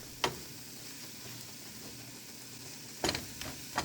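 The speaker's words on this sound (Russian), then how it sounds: "Обжариваем лук с морковкой на сковородке." Onion and carrot fry in a pan, a steady, soft sizzle with a few sharp clicks and pops from stirring, quiet and close with no talk.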